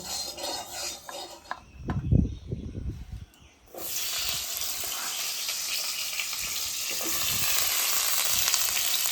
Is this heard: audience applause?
no